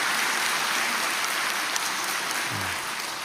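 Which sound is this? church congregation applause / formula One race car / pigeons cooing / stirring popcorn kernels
church congregation applause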